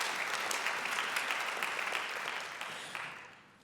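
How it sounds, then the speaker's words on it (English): Dense audience applause fills a hall at a literary awards ceremony, steady and loud before gradually tapering off near the end, with no talking. "Please applaud."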